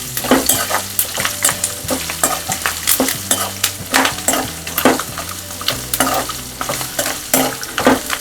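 Curry leaves crackling in hot oil on a slow flame for a crisp chivda snack, a busy sizzle with frequent sharp pops and spatula stirring clatter running throughout, loud and close, with no talking.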